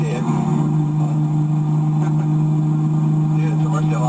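A Lamborghini Murcielago engine holds a steady, loud, close-up drone with a deep idling hum that stays even throughout.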